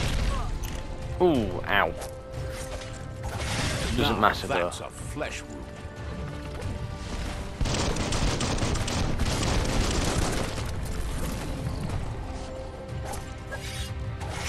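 Gunshots in the video game Biomutant, scattered bursts and clanking impacts amid combat effects and music, with a person talking over them.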